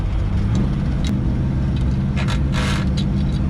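A 1966 Chevrolet K20 factory 4x4 pickup driving in fourth gear, its stiff ride giving a steady loud engine drone with road rumble and intermittent rattles and scrapes throughout.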